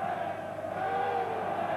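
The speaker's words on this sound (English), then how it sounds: "And just listen to the home fans" A huge home crowd roars continuously through a 1977/78 Bundesliga football match between Köln and Eintracht Braunschweig, a dense, loud, sustained wash of cheering voices.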